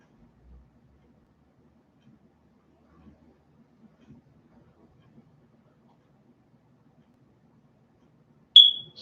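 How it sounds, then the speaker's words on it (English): After near silence, a smoke alarm with a low battery gives a single short, sharp high chirp near the end, loud and alone. "I have not gotten around to putting a new battery in the smoke alarm yet"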